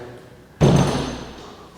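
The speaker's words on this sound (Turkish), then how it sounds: "Kapıyı tekrar kapattık." A single solid thud as a door in a house kitchen shuts partway through, followed by a short fading rumble in a quiet room.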